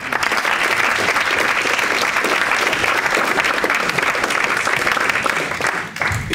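Sustained audience applause at a lecture on maximising the value of intellectual property, dense steady clapping from a full room that holds for about six seconds before tapering off near the end.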